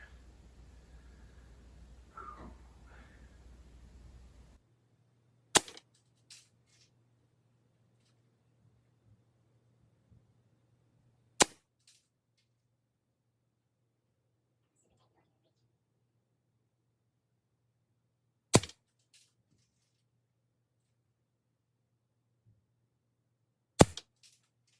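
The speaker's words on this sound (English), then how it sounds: "first shot with the Banjamin Discovery 22 caliber" A Benjamin Discovery .22 caliber air rifle fires four sharp, isolated shots several seconds apart at a 10-yard range, each a crisp crack in near silence after a brief stretch of faint murmuring.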